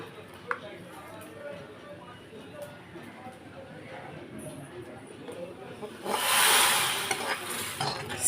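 Low kitchen clatter and quiet voices give way to a sudden loud sizzle as hot tempering hits a simmering brinjal and cowpea curry, hissing strongly before easing.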